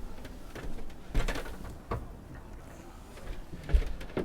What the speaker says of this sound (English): to get into the engine hatch, all we do is release these two catches down here